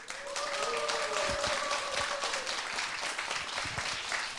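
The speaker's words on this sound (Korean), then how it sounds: "여러분 박수로 환영해 주시기 바랍니다." An audience claps steadily to welcome a poet on stage at a Korean poetry talk event, moderately loud, with a voice speaking faintly beneath it.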